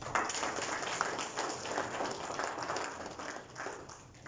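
Applause from an audience at a book launch, a dense steady patter of many hands clapping with no voices, fairly distant and fading slightly toward the end.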